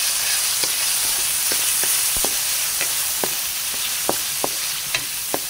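Peeled shrimp sautéing in a pan with onion, garlic and ginger, a loud steady sizzle broken by regular sharp clicks of a utensil stirring and scraping.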